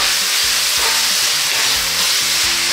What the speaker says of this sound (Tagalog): At okay na itong pork, lipat na natin dito. Yan, igigisa lang natin to.